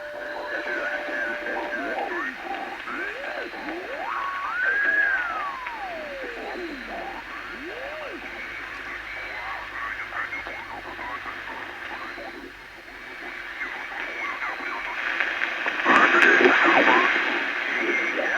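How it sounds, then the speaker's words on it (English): Vintage Davco DR30 ham radio receiver tuned to the lower part of a band, hissing static and noise with whistling, sweeping tones drifting through, steady and moderately loud throughout. "The lower part of this band is picking up noise."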